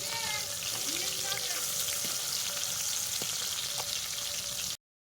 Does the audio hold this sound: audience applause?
no